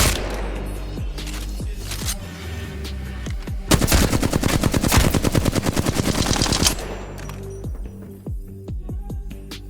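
Rapid automatic hip-fire gunfire from the Apex Legends video game with a no-recoil setup, a dense steady burst of shots in the middle, with scattered single shots and game effects before and after.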